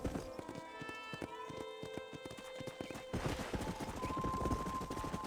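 Horse hooves galloping in the Red Dead Redemption game, a rapid steady clip-clop close by under a background musical score, with the rhythm growing louder and busier partway through.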